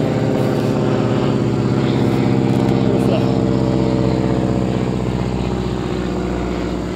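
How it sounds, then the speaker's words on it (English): A low-flying propeller airplane from a local airport passes over a honeybee apiary, its loud, steady droning engine hum filling the whole stretch without fading. "Low-flying plane"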